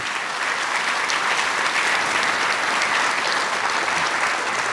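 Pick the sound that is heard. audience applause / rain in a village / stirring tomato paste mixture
audience applause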